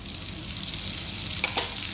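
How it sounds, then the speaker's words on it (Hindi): Curry leaves, urad dal and mustard seeds sizzle and crackle steadily in hot oil for a tadka, a loud continuous frying hiss with small pops, no talking. "ये तड़का है"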